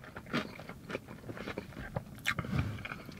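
Crispy Dave's Hot Chicken is bitten and chewed up close, giving a series of sharp crunches and crackles followed by softer chewing sounds over a few seconds.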